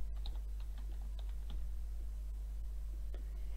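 A handful of light keystrokes typed into a search field on a computer keyboard, sparse soft clicks spread over a few seconds against a steady low electrical hum, with no talk.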